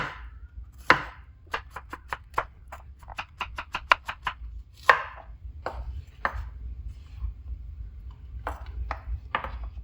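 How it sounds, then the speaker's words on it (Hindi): Potatoes are chopped with a knife on a board, sharp close knocks in an uneven run, a quick rapid burst in the middle, then scattered slower cuts. "देखें, अब सब्जियों की करेंगे कटिंग।"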